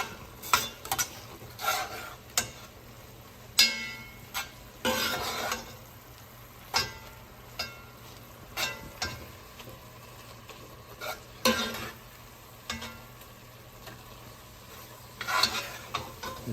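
Ingredients being stirred in a frying pan over a faint sizzle, with irregular scraping and clinking utensil strokes against the pan at close range.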